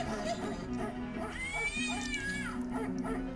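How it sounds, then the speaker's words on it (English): A cartoonish cat meow from the adventure game Mortimer and the Riddles of the Medallion, a rising and falling synthetic yowl heard over continuous game music. "That was definitely supposed to be the cat."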